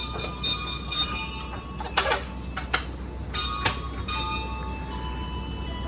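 The KA Fajar Utama economy-class passenger train pulls away on the Yogyakarta–Jakarta run, heard from inside as a steady low rumble with scattered clanks and knocks from the carriage.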